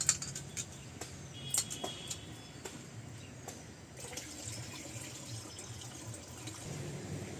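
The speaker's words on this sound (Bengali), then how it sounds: "চালটা আমি ভালোভাবে কষলে কষলে ধুয়ে নেবো তিন চারবার" Rice being rinsed by hand in water, swished and rubbed over several washes, with soft irregular splashes and trickling close by, fairly quiet, with faint birdsong outdoors in the background.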